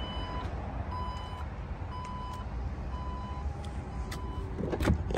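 A 2023 Porsche Macan power tailgate closing: a steady series of electronic warning beeps repeats over a low motor hum, ending in a firmer latching thud close by.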